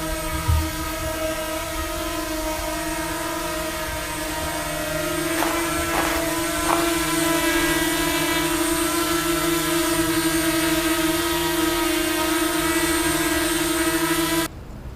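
A DJI Mavic Mini drone hovers close by on a test flight, its rotors producing a steady high buzzing whine with strong tonal harmonics, a few brief clicks partway through, and an abrupt drop near the end.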